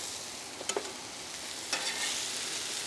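Vegetables (mushrooms, onions and peppers) sizzle in a little oil over medium-high heat in a pan. The frying hiss is soft and steady, with a couple of faint clicks near the start.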